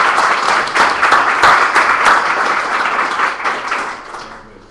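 A room full of people claps to welcome a beekeeping speaker at a Curiosity Club talk, dense and steady applause for several seconds that thins and fades toward the end.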